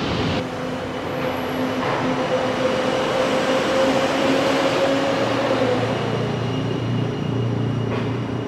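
Noisy ambience of the Masjid Jamek LRT station in Kuala Lumpur: a steady roar of a train rumbling through, a rising whine of the motor, and a busy background wash without clear speech.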